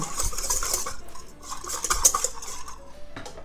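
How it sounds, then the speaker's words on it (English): A pine nut and citrus vinaigrette whisked in a bowl while olive oil is slowly added, giving a fast, continuous metallic whisking clatter, close and fairly bright, with no voices. "we'll slowly whisk this whilst we add a little bit of olive oil"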